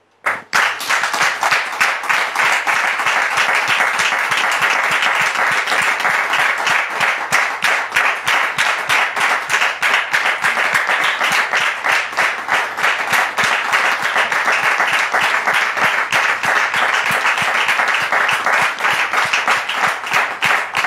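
A studio audience gives sustained, loud applause with dense clapping throughout, welcoming guests onto a French-language talk show set.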